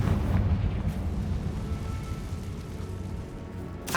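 A Confringo fire spell explodes in Hogwarts Legacy with a heavy, rumbling boom that fills the opening and fades into a low roar, followed by a brief sharp burst at the end.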